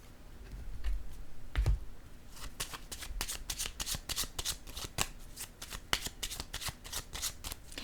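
A deck of playing cards is riffled and shuffled close by: a soft thump, then quick rippling runs of crisp card flicks that repeat steadily, with no speech over them.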